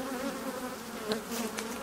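Honeybees hum in a steady, close drone during a hive inspection, with no talk over the buzzing.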